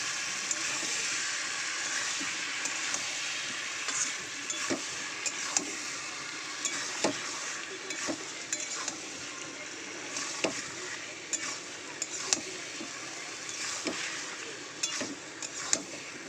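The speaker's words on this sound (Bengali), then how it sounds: "এটাকে এবার ভালো করে কষাবো।" Ginger-garlic paste with chilli and turmeric powder sautéing in a pan, a steady soft sizzle with intermittent scraping and stirring clicks, no talk.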